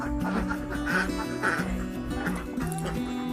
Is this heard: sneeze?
no